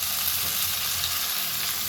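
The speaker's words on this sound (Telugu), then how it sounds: "ఇప్పుడు ఇందులో పాలకూర వేసుకున్నాం" Spinach sizzles and fries steadily in a hot pan over tomato for palak dal, catering style, a dense continuous crackle close by with no talk.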